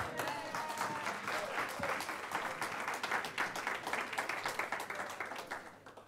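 A church congregation applauds together in a steady, dense wave of clapping that carries on throughout, fairly distant and even, fading a little at the end.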